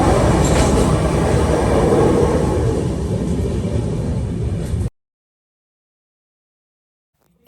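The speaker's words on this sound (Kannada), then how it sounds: "ಫೈನಲಿ ಟ್ರೈನ್ ಬಂತು" A train pulls into a station with a loud, continuous rumble of wheels and carriages and a hint of squealing on the rails, then cuts off abruptly into silence.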